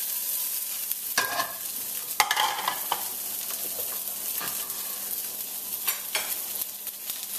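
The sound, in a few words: cauliflower with garlic sautéing in a pan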